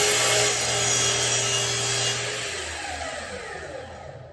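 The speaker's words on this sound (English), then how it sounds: "So I press down on the plunger, press down on the lever, and I'm ready to make my third cut." A plunge power saw cutting through a wood panel, a loud steady whining buzz that holds for about two seconds before the motor winds down and fades, with no talking.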